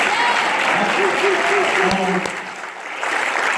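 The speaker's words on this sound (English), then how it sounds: "I want y'all to give another round of applause for Toby" Keynote audience giving a round of applause for a speaker, steady crowd clapping with a voice speaking over it before the clapping thins slightly near the end.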